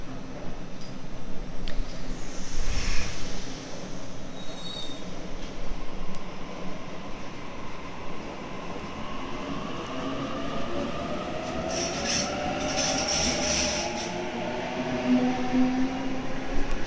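A train runs along a railway line as a steady, continuous rumble of wheels and carriages for the whole stretch, with a few brief higher squeals and clatters. It is fairly close and no one speaks over it.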